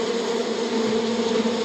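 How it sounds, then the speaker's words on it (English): Steady, dense buzzing from a large colony of bees in a yard on a warm spring day, a constant droning hum with no breaks, fairly loud and close. "No, it's a colony of bees"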